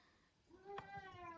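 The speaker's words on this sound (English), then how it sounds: "That's my cat meowing." A domestic cat gives a single drawn-out meow indoors, quiet and fairly close, rising then settling, with nothing else competing.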